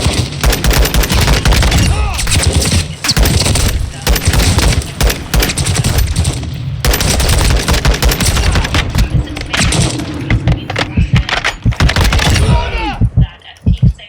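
Rapid video game gunfire in dense bursts, loud and close, with short pauses between volleys and a quieter trailing stretch at the end.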